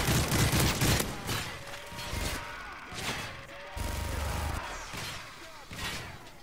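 A light machine gun fires a full clip in the video game Spec Ops, loud rapid bursts that come in uneven pulses across several seconds with heavy thumping impacts between them.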